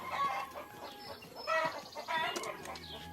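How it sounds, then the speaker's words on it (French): Several cartoon chickens cluck and squawk in an animated, cartoonish chorus, busy and overlapping, at moderate volume, from a French-dubbed animated series. "ces poules affamées"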